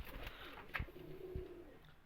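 Pigeons in a large cage give a soft, low coo close by, with a couple of brief thumps and rustles.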